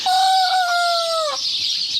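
A single rooster-like call from a nearby chicken, one drawn-out vocalization with a falling end, then quiet.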